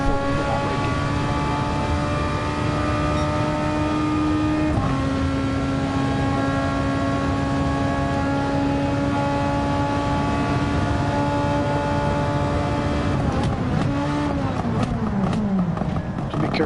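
A Super Formula race car in Gran Turismo 7 holds a loud, sustained high-revving engine whine, with a shift partway through, then a sweeping pitch drop and crackling as it brakes into a corner.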